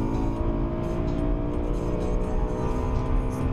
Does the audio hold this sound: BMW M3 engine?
yes